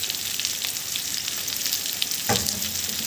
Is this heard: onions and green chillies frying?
yes